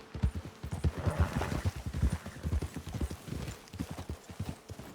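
Steady clip-clop of a ridden horse's hooves in Red Dead Redemption 2, a brisk repeating rhythm of close, fairly loud footfalls that carries on throughout, with no talking over it.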